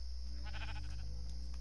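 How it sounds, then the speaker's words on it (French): A sheep in the Minecraft video game gives a short wavering bleat over a steady low hum of background game sound. "Toi, ta gueule, le mouton."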